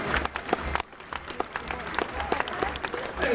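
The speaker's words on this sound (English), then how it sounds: "With a round of applause from us to you." An audience at a SeaWorld show in Queensland applauding, scattered crisp claps rising and falling at moderate distance with a brief lull, voices mixed in.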